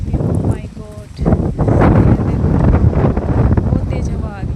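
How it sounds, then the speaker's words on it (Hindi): Strong, gusty wind buffets an outdoor microphone during an evening walk in stormy, dusty weather, a loud continuous roar that swells and rumbles throughout, with a voice speaking faintly under it. "बहुत तेज हवा आ रही है।"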